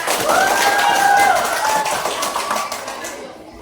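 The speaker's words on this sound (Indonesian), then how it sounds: "Oke, tepuk tangan." Primary school pupils in a classroom clap their hands together on cue, a short burst of fairly loud group clapping that fades out after a few seconds, with a voice heard faintly underneath.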